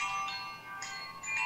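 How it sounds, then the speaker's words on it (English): A phone ringtone chimes during a community police review board meeting, bright bell-like tones repeating in quick steady bursts at moderate volume, with no talking over it. "who's ringing? I'm not ringing. Those are nice bells."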